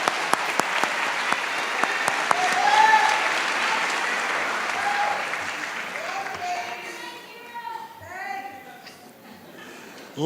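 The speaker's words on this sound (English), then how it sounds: "congratulate this class of 2016 with your applause" Audience applause for a graduating class at a university health professions commencement, sustained and fairly loud, thinning toward the end as a few voices and cheers come through.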